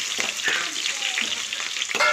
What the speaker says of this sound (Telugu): పోపు దినుసులు వేగుతున్నాయి అన్నమాట